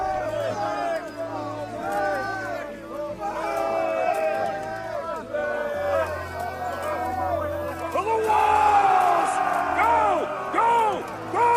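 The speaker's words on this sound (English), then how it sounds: "he just stands there and screams at me" Enemy soldier screaming during a melee fight in the medieval combat game Kingdom Come: Deliverance, loud drawn-out yells over clashing battle noise and crowd-like shouting, with the loudest scream near the end.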